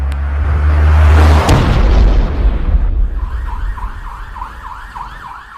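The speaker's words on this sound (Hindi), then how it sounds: "लगता है कोई बम हम फेंका है, अटैक हो गया" A loud, close bomb blast in a comedy sketch, a heavy booming burst with rumble that decays while a wailing siren rises behind it, no talk.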